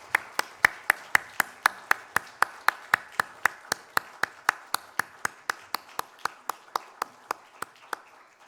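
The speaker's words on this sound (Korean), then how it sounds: "하나님께 영광의 박수를 올려드리겠습니다" A church congregation claps in unison during a Korean Sunday worship service: steady, evenly spaced beats, about three per second, for roughly eight seconds with no talking.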